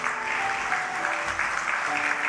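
A church congregation claps together in a steady, dense wash of applause at a Sunday morning service, sustained and even throughout with no break.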